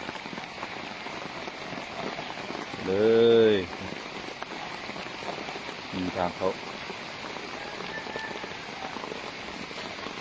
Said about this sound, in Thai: ฝนตกเอาหนักได้